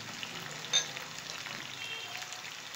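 Green chillies fry in a pan of keema meant for stuffed capsicum, making a soft, steady close sizzle with one small pop near the start and no voices.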